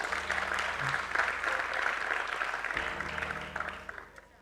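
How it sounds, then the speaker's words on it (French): Audience applauding Waldo at a live French comedy show, a steady wash of clapping under faint background voices that fades toward the end. "Est-ce qu'on peut applaudir pour Waldo?"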